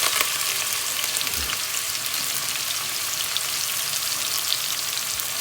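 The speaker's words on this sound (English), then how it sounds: "When you get the smoking point, I will add this onion," Onion frying in oil heated to its smoking point for a chicken curry, a continuous dense hiss of sizzling that stays even and close throughout.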